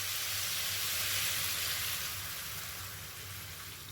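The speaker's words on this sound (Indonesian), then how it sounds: "Lalu tambahkan dengan air ya." Water poured into a pan of chicken sizzling over the stove for tongseng ayam, giving a loud, steady broadband hiss and crackle that eases slightly toward the end, with no voices.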